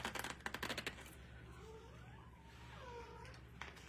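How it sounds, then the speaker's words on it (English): A pet cat meows softly a couple of times in an indoor room, faint rising and falling calls over a steady low hum, with some quick tapping or rustling just before. "My kitty is saying hello."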